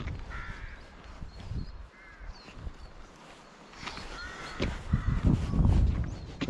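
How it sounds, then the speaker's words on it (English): Rooks caw repeatedly from a rookery, several harsh calls overlapping at varying distances, with some low rumbling noise in the background. "Rooks stick together in what you call a rookery, and crows nest separately."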